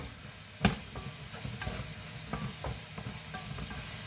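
Chilli con carne with smoked paprika stirred in a pan, scattered spoon scrapes and knocks with one sharp clack early on, over a soft background sizzle, close and fairly quiet, no speech.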